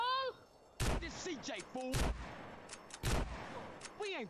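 Gunfire in Grand Theft Auto: San Andreas Definitive Edition, three sharp, loud shots spaced about a second apart, with game voices and other in-game sounds in the gaps between them.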